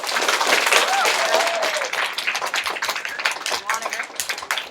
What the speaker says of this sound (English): All right, guys, round of applause.